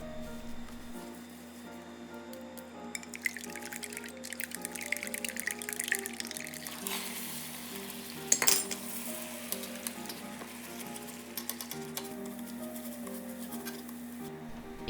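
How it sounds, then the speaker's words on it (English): Scrambled eggs sizzle steadily in oil in a pan during Japanese home cooking, with occasional clinks and scrapes of a utensil stirring against the pan, fairly quiet and close. "Add oil to make a small scrambled eggs."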